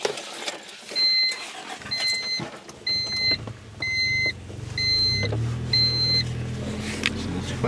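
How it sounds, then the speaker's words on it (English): A Honda B18 engine idles roughly inside a car, a low uneven rumble that grows steadier in the second half, under a repeated series of short high chime beeps and faint cabin noise. "You can hear it kind of, the idle's a little bit rough"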